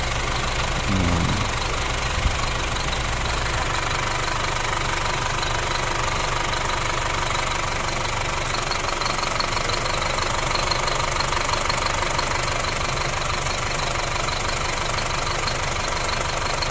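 An Isuzu 4HF1 semi-electronic diesel engine idles steadily with a rough, rhythmic fuel-knock clatter, loud and close, running unchanged for the whole stretch.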